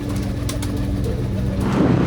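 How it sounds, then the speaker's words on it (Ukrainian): Pigeons coo in a shed that was nearly flooded during a thaw in Izium, Kharkiv region, a close, low, continuous murmuring with no talk. "Голуби у діда чуть не потопли в сараї."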